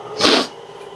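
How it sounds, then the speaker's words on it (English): A single short sneeze from a person baking a praline pecan sweet potato pie in a home kitchen, close and fairly loud, followed by quiet room tone. "I had to sneeze."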